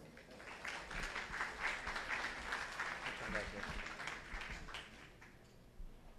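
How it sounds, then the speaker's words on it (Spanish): Audience applause at a Spanish-language health management conference: moderate, fairly distant clapping from a seated crowd that swells and then tapers off after a few seconds. "Los aplausos para él."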